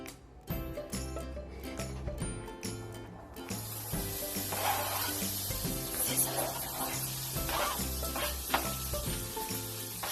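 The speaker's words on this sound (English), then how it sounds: "Now we're going to add our onion into a pan with olive oil, and we're going to saute." Onion sautéing in olive oil in a pan: after a few seconds of quieter kitchen noise, a bright steady sizzle starts and continues, with occasional stirring clicks, close and moderately loud.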